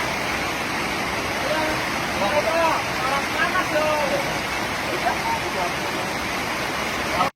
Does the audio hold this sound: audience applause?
no